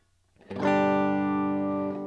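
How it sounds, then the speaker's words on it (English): Hall reverb effect from a Phenyx Pro PTL-600 mixing board: a sustained, bright tone that swells in, holds steadily for over a second, then decays with a smooth reverberant tail, alone without talk. "This is just simple hall reverb"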